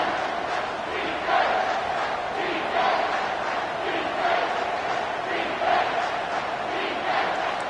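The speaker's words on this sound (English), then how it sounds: "with this place rocking, the crowd forces a false start" Stadium crowd roaring in College Football 25 during a potential game-winning kick, a steady loud wash of cheering and noise with slight swells, no distinct voices standing out.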